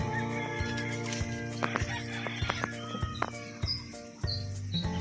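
Ducks and chickens squabbling nearby, with clucks and agitated squawks over a steady outdoor background and a few sharper chirps.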